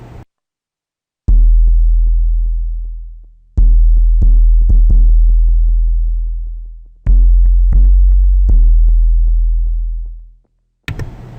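Low synth sub plucks from the Output Substance bass plugin play in a loose rhythmic pattern, each deep note sustaining and decaying, repeated in three phrases with no voices.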